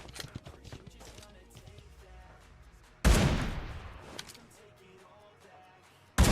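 Shots from an AMR rifle in PUBG Mobile ring out as one loud sharp blast that decays over about a second, then another abrupt shot at the end, amid quieter game clatter and some talk.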